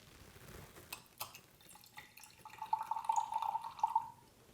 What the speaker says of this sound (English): I'm going to measure out 50 milliliters of the Italian red wine vinegar